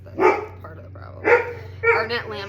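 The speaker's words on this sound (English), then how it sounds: "I'm sorry about my dog." A pet dog barks in short bursts close by, several sharp yaps spaced through the moment while a person keeps talking over them.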